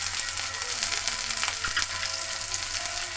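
Carrots and chopped cauliflower sizzle steadily in a pan while being fried, a dense, continuous crackle close by with an occasional faint clink, no voices.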